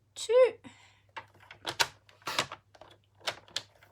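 A paper trimmer slices card stock to length in a rapid run of sharp cutting and sliding scrapes, close and clear, with a voice speaking at the start.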